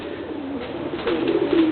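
A domestic tomprang racing pigeon coos in a low, throaty, steady murmur that swells slightly toward the end, close by and alone.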